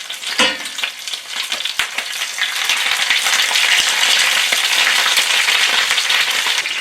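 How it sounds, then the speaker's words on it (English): A Canada goose breast sears skin side down in hot olive oil in a pan, a loud continuous sizzle that swells after an initial clatter as the meat settles, with no talking. "we're going to sear our breast skin side down"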